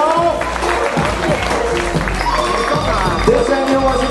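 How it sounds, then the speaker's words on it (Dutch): Audience applause at a literary festival, a dense continuous patter of clapping from a crowd, steady and fairly loud throughout with some voices and cheers mixed in. "geef ze een warm applaus"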